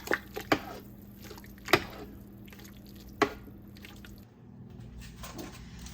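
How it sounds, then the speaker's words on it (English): Cabbage stirred into a pot of soup with a spoon, a few wet clinks and squishy knocks scattered over a low steady kitchen hum. "let's mix the cabbage in"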